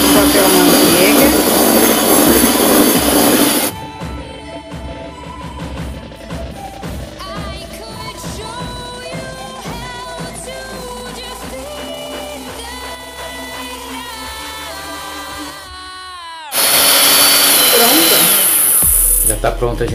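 An electric mixer beats cake batter for a jelly roll, with loud bursts of whirring at the start and end and a quieter stretch between in which the motor hum continues and someone talks.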